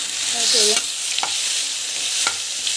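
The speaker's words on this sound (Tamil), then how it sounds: "வெங்காயம் வந்து போட்டுக்கலாம். நல்லா வதங்கட்டும்." Onions with ground masala sautéing in a pan: a continuous close sizzle with a few spatula scrapes and stirring strokes against the metal, no voices.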